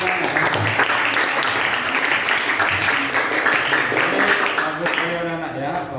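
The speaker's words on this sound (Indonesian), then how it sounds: "Oke, tepuk tangan untuk Glora." Sustained applause from a classroom audience for a student who has just finished speaking, dense and steady for the whole stretch, with voices mixed in.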